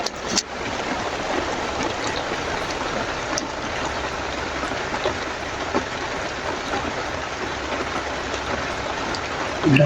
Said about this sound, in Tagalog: Ulan po.